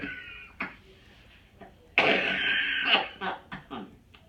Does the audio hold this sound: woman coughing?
yes